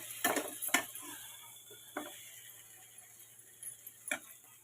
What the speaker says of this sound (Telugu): అయిపోయిందండి కూర. బౌల్లోకి తీసేసుకుందాం.